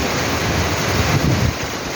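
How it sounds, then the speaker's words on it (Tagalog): Steady, dense rush of heavy rain pouring down, a constant broadband hiss with low rumbling, close and loud throughout. "sobra na ang ulan ayaw tumigil ng ulan"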